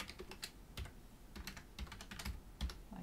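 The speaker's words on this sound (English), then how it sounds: "We will then enter the username and password" Soft keystrokes on a computer keyboard as a username and password are entered, an uneven patter of quiet clicks nearby with no talking.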